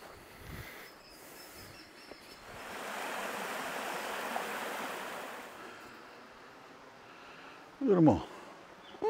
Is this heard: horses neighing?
no